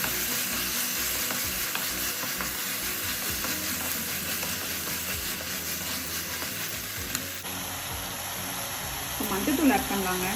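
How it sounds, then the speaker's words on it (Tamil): Onions and tomatoes sautéing together in a pan for vada curry, a steady close sizzle with scraping stirs running throughout, growing a little busier near the end. "தக்காளி வதங்கும் போது இந்த நீளமாக கட் பண்ணியிருக்கோம் அந்த வெங்காயம் இப்போ இதில் ஆட் பண்ணுவாங்க"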